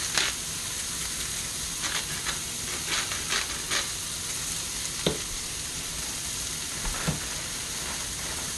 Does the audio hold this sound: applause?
no